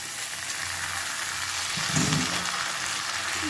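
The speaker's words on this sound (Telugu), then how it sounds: "సగ్గుబియ్యం వేస్తున్నాను" Sago pearls go into onions frying in a pan, keeping up a dense, rain-like sizzling hiss with a brief fuller rustle and bump midway as the pearls land and settle.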